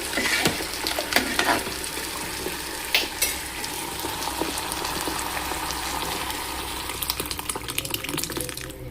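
Cooked lentils with water pour into a hot pan for okra sambar, setting off a loud, continuous sizzle with scattered crackles and splashes, close up.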